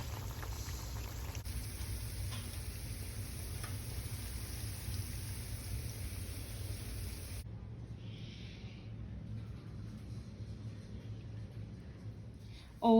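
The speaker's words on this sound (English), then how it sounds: "we're gonna let those fry up for about 3 to 4 minutes" Puerto Rican corn and cheese fritters (sorullitos de maíz con queso) frying in a pan of hot oil, a steady close crackling sizzle that carries on evenly throughout with no talking.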